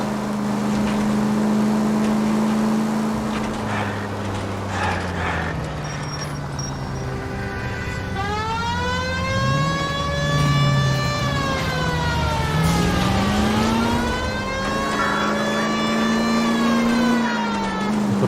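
A police car siren wails in the L.A. Noire video game, a loud steady rising and falling tone running throughout over engine rumble, with no talking.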